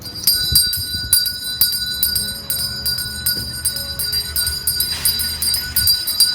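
A Salvation Army volunteer's hand bell rings in quick, steady repeated jingles, bright and fairly close, outdoors during the Thanksgiving donation season.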